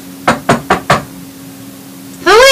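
Four sharp knocks on a locked door, evenly spaced and close, followed by a brief pause before a voice starts speaking.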